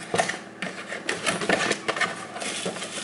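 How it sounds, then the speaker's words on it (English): Cardboard and plastic packaging of a 12-volt, 150-watt RNG 2001 car vacuum cleaner being opened up close, a busy run of crackling rustles, taps and small clicks with no voices. "Let's open the box."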